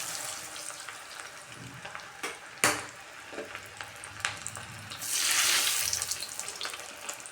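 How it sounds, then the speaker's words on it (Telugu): Cauliflower pieces for crispy gobi manchurian dropped into hot oil for deep frying, a steady crackling sizzle with a sharp splash-like burst near the start and a louder frothy surge toward the end. "ఇప్పుడు ఏమాత్రం డిస్టర్బ్ చేయకుండా దీంట్లో వేసి వేయించుకో."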